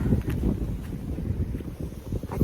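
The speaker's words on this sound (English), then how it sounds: "Yeah, it's windy" Strong wind gusting through a Canadian snowstorm, a loud, rumbling buffet with irregular surges and microphone-style low roar throughout.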